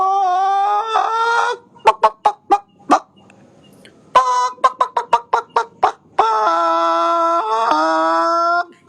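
A voice imitates a chicken, with drawn-out clucking calls broken by a quick series of short, sharp clucks, repeated twice, loud and close.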